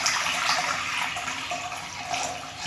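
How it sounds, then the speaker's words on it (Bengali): Water pours steadily into a cooking pot on a gas stove, where yam and potato will be boiled, making a continuous close splashing rush with no talking. "জল দিলাম।"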